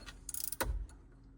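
A ratchet wrench loosens a bolt on a custom shifter for an OBS Ford truck, giving a short, quiet burst of rapid clicks followed by a duller metallic clunk, close up.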